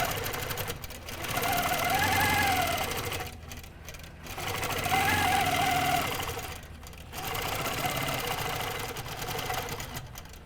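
A sewing machine stitches tacking stitches while quilting with a 3-inch square ruler template, running in three steady close bursts separated by brief pauses.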